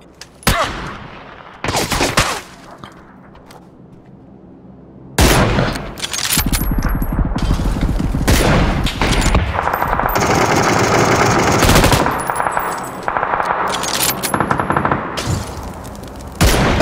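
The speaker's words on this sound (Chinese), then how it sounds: "打两枪" Rapid automatic gunfire in PUBG on the Erangel map, with short bursts early, then a long stretch of dense sustained shooting, loud and close.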